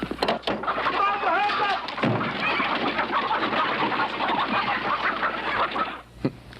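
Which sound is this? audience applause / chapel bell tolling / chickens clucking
chickens clucking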